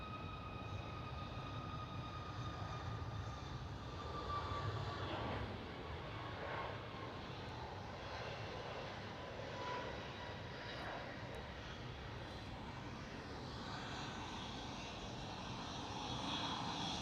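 A TUI airliner's engines drone at Amsterdam Schiphol, a fairly faint, steady rumble with high whining tones that waver over its length, heard alone without speech.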